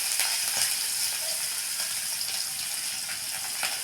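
Cumin seeds, green chili and onion frying in hot oil in a pan, a loud continuous crackling sizzle with dense popping, steady throughout and close by, no voices.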